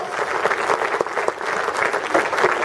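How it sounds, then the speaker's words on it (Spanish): A church congregation applauds during a Spanish-language testimony service, a continuous crowd of hands clapping steadily and fairly close for a few seconds, with no talk over it. "Dale un aplauso a Él, hermano."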